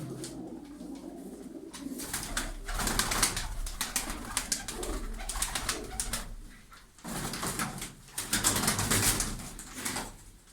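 Playful tumbling pigeons coo in a coop, a steady run of low, close cooing calls with brief pauses and a quieter gap near the middle.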